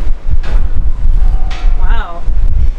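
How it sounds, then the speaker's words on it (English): Strong gusts buffet the microphone outdoors in a very windy Canadian mountain town, a loud low rumble that swells and dips throughout, with a voice speaking briefly over it. "Very windy here today, so just be careful."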